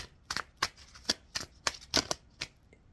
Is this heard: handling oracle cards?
yes